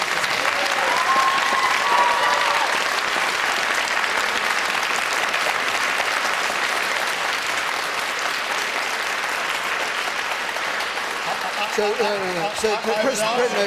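A studio audience at a televised political debate in Britain applauds in one long, loud, unbroken wash of clapping that holds steady throughout, with a voice starting up faintly near the very end.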